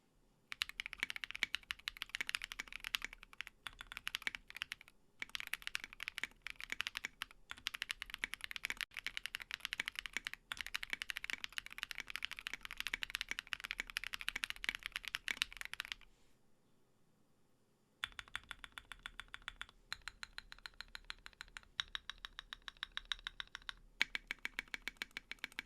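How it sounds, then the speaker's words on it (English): Rapid, close typing on a mechanical keyboard with an acrylic case and plate and deep, poppy keycaps, a dense stream of crisp clacks with a short pause before lighter, sparser keystrokes resume. "these keycaps will also give a slightly deeper, poppier sound, especially in the spacebar"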